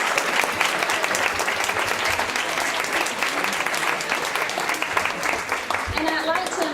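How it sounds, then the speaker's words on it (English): An awards ceremony crowd bursts into loud, continuous applause, thick with many hands clapping at once, and a voice comes in faintly near the end. "Would you please stand and give them a round of applause,"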